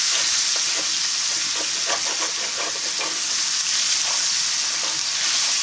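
Vegetables sauté in a pan for smothered pork chops, giving a loud, steady sizzle close by. Light scraping stir strokes run through it with no voices.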